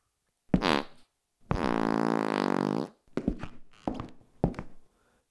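A sequence of close, loud farts: a short burst, then a long sustained buzzing burr of more than a second, followed by several brief sputtering pops, with no talking.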